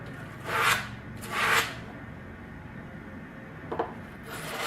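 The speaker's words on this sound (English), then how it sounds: "On the larger surfaces, I use the larger Joe Combs foam scratcher." Joe Combs foam scratcher rasping the surface of a whitetail deer head taxidermy form, two firm scraping strokes close up, then a quieter pause and a brief light scratch, with no talking.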